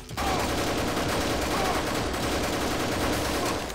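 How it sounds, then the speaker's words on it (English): Sustained machine gun fire in the Deus Ex video game (GMDX mod), set in an underwater base against spider enemies, a dense, continuous loud rattle of rapid shots running the whole time without a pause. "how many bullets does this take? Okay, machine gun, not that great with the spiders."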